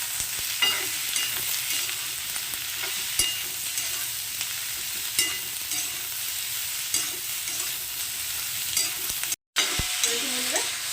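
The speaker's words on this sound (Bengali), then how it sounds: "যত ভাজছি ঝিঙেটা কিন্তু কমে যাচ্ছে" Ridge gourd fries in a pan seasoned with asafoetida, giving a continuous loud sizzle with intermittent stirring scrapes and a brief dropout near the end, no voices.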